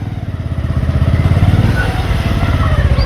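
A motorcycle rides on a rainy mountain road to Mana village near Badrinath, its engine a loud, close, steady throbbing chug with fast regular pulses and rumble throughout, with no talk over it.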